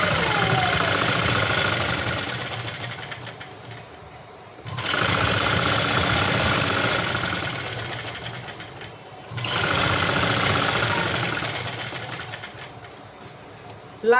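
A sewing machine stitches elastic onto palazzo pants in three long, loud, steady runs of rapid mechanical chatter, each slowing briefly before starting again, with no voice over it.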